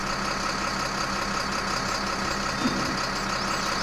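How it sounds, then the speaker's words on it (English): A tow truck engine runs in the SpinTires off-road driving game, a steady low rumble holding at an even level throughout, with no talk over it. "Looks like that engine starts for some reason, but that's fine."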